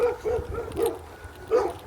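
A dog barks outdoors during a long-distance walk, giving about four short, moderately loud barks spaced unevenly over a faint background.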